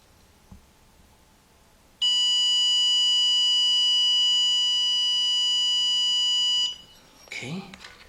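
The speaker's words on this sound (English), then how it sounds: "We'll sit there and wait for the beep." A steady electronic beep from a diagnostic tool during engine work on a 2006 Kia Sportage 2.7, one continuous tone lasting several seconds in a quiet garage, followed by a brief rustle.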